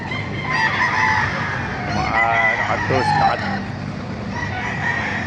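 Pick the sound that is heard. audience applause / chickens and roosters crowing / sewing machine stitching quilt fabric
chickens and roosters crowing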